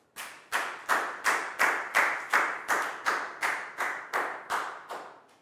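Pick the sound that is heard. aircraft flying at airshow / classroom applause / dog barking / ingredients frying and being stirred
classroom applause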